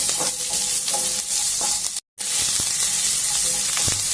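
Onions fry in hot oil in a pan with a loud, continuous close-up sizzle and occasional stirring scrapes, broken by one brief silent gap midway.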